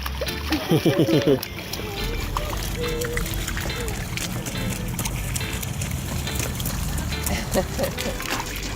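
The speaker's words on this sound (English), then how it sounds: "See your biggest jump. Ready? Whoa! Give me a splash." A child jumps into a deep puddle, sending water splashing, with a short burst of voices near the start and splashy, sloshing noise continuing under background sound.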